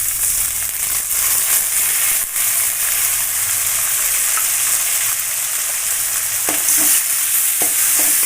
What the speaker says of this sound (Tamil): தக்காளி நல்லா கிளறி விட்டுருவோம்.